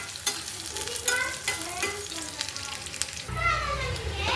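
Vegetables roasting in a hot pan for a sambar masala give a steady sizzle with stirring scrapes, close and moderately loud, with faint children's voices in the background.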